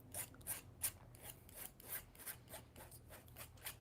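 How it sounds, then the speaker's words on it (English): Palette knife scraping excess acrylic paint across a canvas, a steady series of soft rhythmic rasping strokes, close but fairly quiet, with no talking. "it's scraping off any excess paint"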